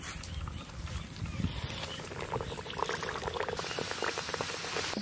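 Medium-hot white oil in a wok sizzles and crackles steadily while frying egg kochuri in a village kitchen, a dense, continuous bubbling close by.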